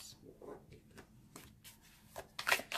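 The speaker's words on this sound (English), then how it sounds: "Shuffles just like so. It's actually a really nice shuffle." Tarot cards of typical Scarabeo size and stock being shuffled by hand, a close, soft run of riffling flutters and taps building to a louder burst of shuffling at the end.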